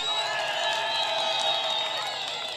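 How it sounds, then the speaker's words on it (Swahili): A large crowd at a morning political rally in Katoro applauds and cheers, a dense, steady roar of clapping with occasional whistles that carries on without a break. "Katoro, mna mwamko mkubwa, mjipigie makofi"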